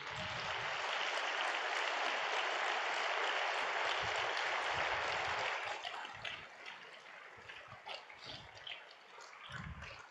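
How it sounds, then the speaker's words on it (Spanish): A church congregation claps for the Lord at the end of a sermon, a dense sustained burst for about six seconds that then thins into scattered, fading claps. "Denle un aplauso al Señor."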